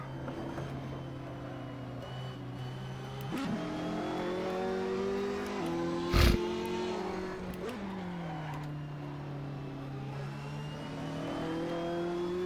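Ferrari 458 race cars circling Monza in Assetto Corsa, a steady high engine drone that rises and falls through gear changes, with a brief sharp burst midway and no talking over it.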